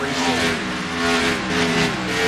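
Stock cars race on a superspeedway, loud, continuous engine roar with shifting whine as cars sweep past close by, no voices over it.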